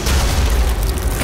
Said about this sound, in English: Alright, super shotgun.